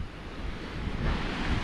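Sea swell surging against the side of a pier at Whitley Bay on a cold sunny day, a steady close wash of surf and wind that builds slightly toward the end, with no talk.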